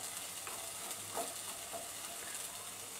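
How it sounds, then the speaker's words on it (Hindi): Boiled sweet corn frying in a hot pan gives a faint, steady sizzle, with a few soft stirring strokes scattered through it. "इसे दो मिनट तक ऐसे थोड़ा सा फ्राई कर लूंगी"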